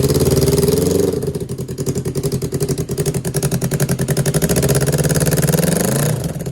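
A street bike motorcycle engine, a cheap used unit said to rev to 11,000 RPM, runs close and loud, with a throaty pulsing idle that is blipped into repeated revs rising and falling, with no voices over it.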